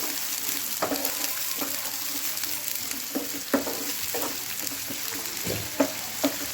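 Steady sizzling of finely chopped onion frying in a pan for a bhurji, with intermittent scraping and clinking as it is stirred, close and continuous.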